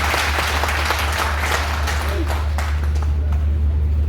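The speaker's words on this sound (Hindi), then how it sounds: "अपने दोस्त के लिए जरा जोर से ताली बजाएं एक बार" Audience applause at a heat stress awareness training session, a steady dense clatter of many hands held throughout over a strong low hum, loud and continuous with some scattered voices mixed in.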